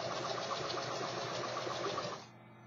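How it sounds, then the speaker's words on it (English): Sewing machine stitching ribbon crossways onto felt and flannel for an owl toy, a fast, even mechanical whir with regular needle clatter that runs steadily, then stops abruptly near the end, close and alone. "just sew that crossways on the sewing machine"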